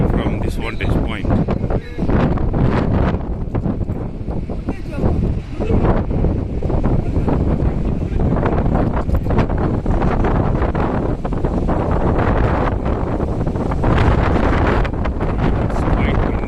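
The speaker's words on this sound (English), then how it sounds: "It's quite windy here," Strong wind at a panoramic viewpoint in Toledo, Spain buffets the microphone in heavy, roaring gusts that continue throughout, with a voice partly audible under the blustering.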